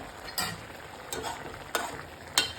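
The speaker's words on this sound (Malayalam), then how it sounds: "അപ്പോൾ കറി തിളച്ച് സൗണ്ട് കേൾക്കുന്നുണ്ട്" Sardine curry with bird's eye chilies boiling in a pot, giving a steady low bubbling hiss with soft pops roughly every second.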